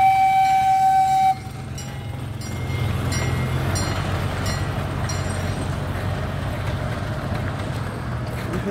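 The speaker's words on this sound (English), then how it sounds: "That's the train." A train rumbles past close by, a loud steady low roar of rolling wagons with rail clatter, opening with a brief high horn-like tone before the sustained passing noise.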